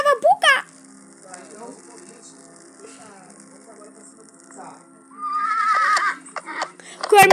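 A horse neighs and whinnies loudly in a forest survival video game, a sharp call at the start and another at the end, with faint clip-clop and ambient game sounds between and a voice speaking briefly.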